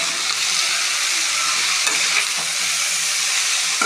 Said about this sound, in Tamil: நல்லா வதக்கிட்டு மூடி வச்சிடலாம்.